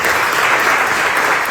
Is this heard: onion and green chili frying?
no